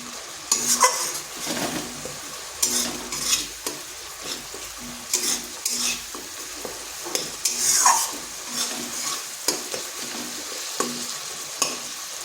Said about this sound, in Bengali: হলুদ গুঁড়ো আর লঙ্কার গুঁড়ো মশলাটা ভালো করে একটু কষিয়ে নিচ্ছি